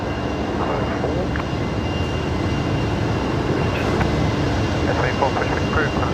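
An aircraft roars on arrival at Brisbane Airport over the bay, a loud, steady broadband engine rumble that holds throughout, with a voice talking over it.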